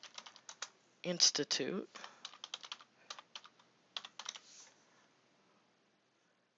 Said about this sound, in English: Type in Rochester